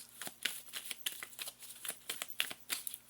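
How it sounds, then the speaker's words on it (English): A tarot card deck is shuffled steadily, a quick run of crisp riffling slaps and flutters repeating close by at a moderate level, with no talking. "I've been shuffling this deck for a while."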